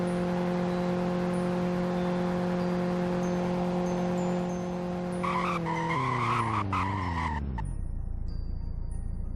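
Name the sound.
car braking and skidding on slippery road, Roblox Greenville video game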